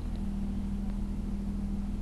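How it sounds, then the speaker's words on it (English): A 2014 Toyota FT-1 in Gran Turismo Sport idles with a steady, even engine hum and a low pulsing rumble, unchanging and moderately loud throughout. "So the engine is turned on and running."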